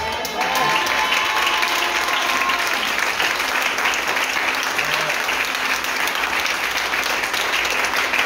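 A church congregation applauds and cheers loudly and steadily throughout, a dense wash of clapping with shouts of joy rising over it.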